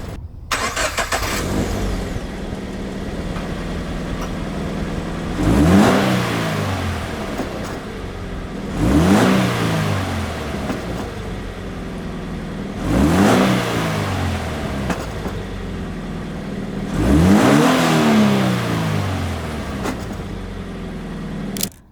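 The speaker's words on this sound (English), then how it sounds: "let me give you guys a couple revs with fully stock exhaust" Stock Subaru BRZ with its factory exhaust revved four times while stationary, each rev rising and falling smoothly over a steady idle, fairly restrained and close.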